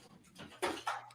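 A dog walking into a room, heard as a few short breathy bursts, panting and soft vocal sounds, fairly close over a low steady hum.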